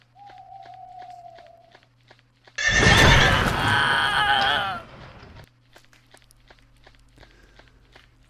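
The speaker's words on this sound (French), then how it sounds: "Oh les chevaux." Minecraft horses whinny in a loud, drawn-out burst midway, with soft clip-clopping hooves and footsteps ticking steadily before and after.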